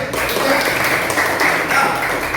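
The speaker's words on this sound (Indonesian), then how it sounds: "tepuk tangan buat lagi" A classroom audience gives a brief burst of applause, a dense, even clatter of clapping hands lasting a couple of seconds.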